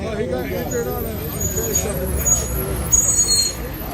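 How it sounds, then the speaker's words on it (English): A garbage truck passes with a loud hiss of its air brakes, close by and steady beneath people talking nearby over street traffic noise. "That's the garbage truck."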